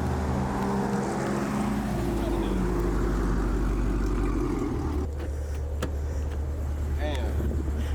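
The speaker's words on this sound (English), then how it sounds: "That's why I tell y'all to get CORSA, man. It speaks for itself." A Dodge Charger Scat Pack 392 with a CORSA full exhaust rumbles loudly and steadily with deep low-end drone, easing off around the midpoint as wind and outdoor noise continue, with voices talking over it.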